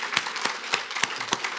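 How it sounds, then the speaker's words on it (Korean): Scattered, crisp hand claps from a church congregation, uneven and fairly close, with a few louder individual claps standing out. "우리 이 시간에 한번 힘차게 수고합니다 하면서 우리 박수 좀 쳐줘요"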